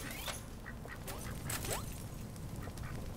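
Several short duck quacks from the game Little Inferno pop out over a busy, crackling background, scattered unevenly across a few seconds with no speech.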